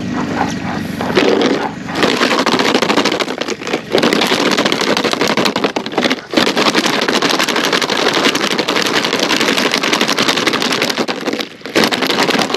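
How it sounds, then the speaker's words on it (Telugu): Plastic bottle filled with stones shaken hard in a paddy field to scare off cranes, a loud dense rattling that runs almost nonstop, broken by a few short pauses. "కేవలం బాటిల్ రాళ్ళేసి ఊపితే కథ సౌండ్ బాగా వస్తుంది"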